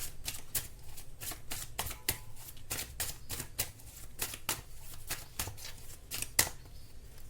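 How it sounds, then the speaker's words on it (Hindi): Tarot cards are shuffled and drawn by hand, a close, quiet run of rapid riffling flicks and soft slaps lasting several seconds over a low background hum. "अभी मैं आपके लिए कार्ड निकालती हूँ, आपके लिए क्या यहाँ पर गाइडेंस है।"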